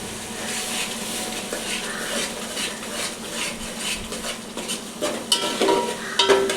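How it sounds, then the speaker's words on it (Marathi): Green peas sautéing in oil in a pan for mushroom biryani, a steady soft sizzle with stirring scrapes throughout and a few sharper metal clinks of a spoon against the pan near the end, with no talk. "आपण याला थोडंसं ऑइल सुटेपर्यंत थोडंसं इथे परतवून घेणार आहे."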